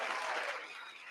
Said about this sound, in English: I got to give you guys a round of applause, man